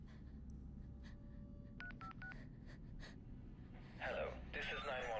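A quick run of about four touch-tone keypad beeps as a phone dials an emergency number, clear over steady room hiss, followed by rustling and breathy sounds.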